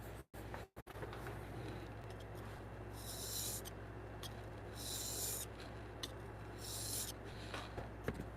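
A chisel is sharpened on a fine grit stone, with three or four soft, gritty rasping strokes spaced a couple of seconds apart against a low background hum.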